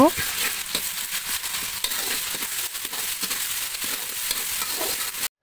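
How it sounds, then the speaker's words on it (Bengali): Onions, green chillies and ground spice paste sizzle in hot oil for khichuri, a continuous loud hiss broken by repeated spatula scrapes and clicks from stirring. "এখন আমি কিছুটা পেঁয়াজ তেলে ভেজে নিচ্ছি"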